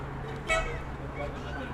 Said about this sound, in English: We have a Shriner's clown car or something out in the parking lot honking at us.